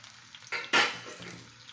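Two dried red chillies dropped into a hot pan of sautéed onions for a pumpkin-leaf thoran give a short, close burst of sizzling that fades quickly against the quiet kitchen.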